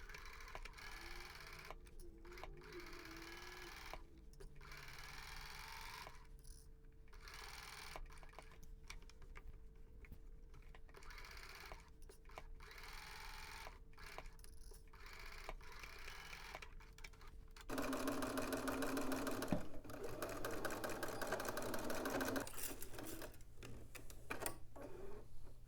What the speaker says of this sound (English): Now I'm going to edge stitch the pocket in place.